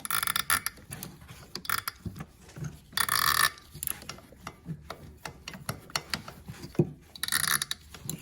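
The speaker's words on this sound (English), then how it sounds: "I'll finish that one off with a quarter drive for the shorter ratchet" A quarter-inch drive ratchet clicks in quick irregular bursts while tightening spark plugs on a GM 3.6L engine, the pawl chattering close and fairly quiet.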